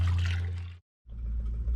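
Hot water heated on a stove pours into a sink of dishes in a steady splash, breaks off briefly, then resumes with a lower, fuller gush.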